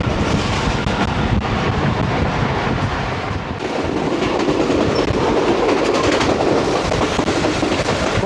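A Pakistan Railways passenger train running between Lahore and Hafizabad, heard from an open carriage door: a loud, continuous roar of wheels and rushing wind with steady clickety-clack, close and dense throughout.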